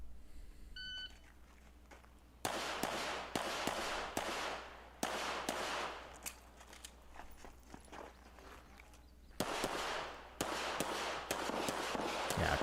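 Gunshots ring out at a shooting competition stage with steel targets, as in an SWGC match. Loud, echoing reports come in irregular clusters, some rapid and some spaced, close to the listener over steady outdoor background noise, with a short beep tone near the start.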